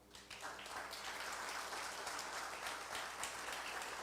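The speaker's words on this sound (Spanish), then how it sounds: "Denle un aplauso al Señor." Church congregation applauding, a dense continuous burst of clapping that rises quickly and holds steady, heard at a moderate distance and fairly faint.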